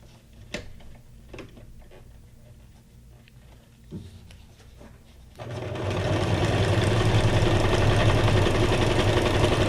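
A sewing machine starts up after a few quiet seconds of light tapping and handling, then runs in a fast, steady, close stitching rattle through to the end.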